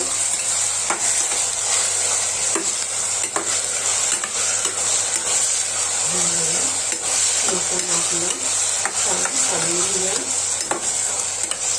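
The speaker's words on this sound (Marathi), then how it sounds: "आपलं मिश्रण छान काढून घेऊया" A spoon steadily stirs a sizzling khichdi mixture of green chilli, cumin and onion in a pot, producing loud, continuous scraping and frying hiss, with a faint voice partway through.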